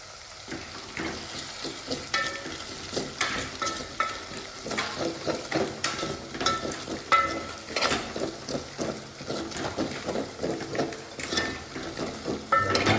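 Gravy masala sizzles and fries in a pan, with steady oily crackle and repeated scraping strokes of a spoon stirring the mixture close up, no voices.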